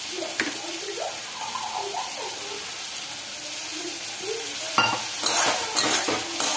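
Egg masala with chili powder and a splash of water frying in a pan, a steady wet sizzle and bubbling under repeated scraping and stirring strokes, with louder spoon scrapes toward the end.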